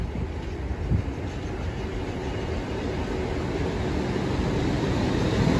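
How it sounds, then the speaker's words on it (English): A GWR passenger train to London Paddington moves through Oxford station with a steady, building rumble and broadband rail roar, growing slightly louder across the span with no talk. "my train, the 1402 GWR service to London Paddington"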